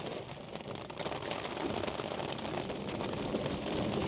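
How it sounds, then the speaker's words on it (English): Rain drums steadily on the canopy of a Quingo mobility scooter during a rainstorm, a dense close hiss that swells slightly and holds with no voices over it. "I love the sound of the rain."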